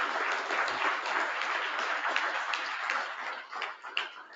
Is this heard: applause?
yes